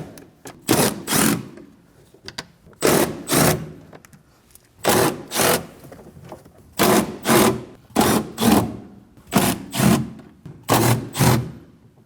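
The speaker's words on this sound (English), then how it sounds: "Go ahead and remove those. Using a 10mm socket," A ratchet with a 10mm socket loosens the bolts on the front power window motor assembly of a 2011-2016 Kia Optima in quick, loud clicking bursts. The bursts come in pairs with short pauses between them, and no one talks.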